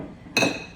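A single bright clink of Classico glass jars knocking together as they are set into a kitchen cabinet, close and sharp with a short ringing decay.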